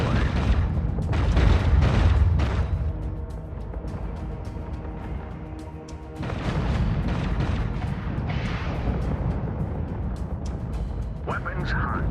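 Fleet ship weapons firing during a space battle in Infinite Lagrange, heavy booming cannon blasts and rumbling explosions layered with sharp bursts, dense and continuous, while a voice talks over the action.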